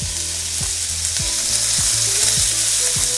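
Avocado oil and a pat of butter sizzle loudly and steadily in a pan after bell peppers go in, a dense continuous frying hiss with low tonal hum underneath and no voices.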